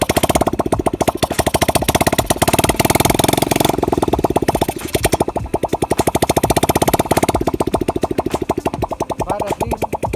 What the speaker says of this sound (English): Doing a test startup.